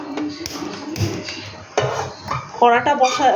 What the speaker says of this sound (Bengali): কড়াটা বসিয়ে এবার কড়াটাকে কড়া গরম হয়ে গেছে